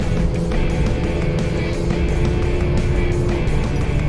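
A Suzuki DA64W's engine runs steadily around 3,500 RPM, a close, continuous droning hum with faint ticking and road noise, no voices.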